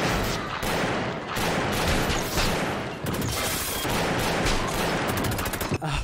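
Gunshots from a crime film, Scarface, come as a dense, loud barrage of rapid gunfire with a few sharper cracks, continuous across the scene with little pause.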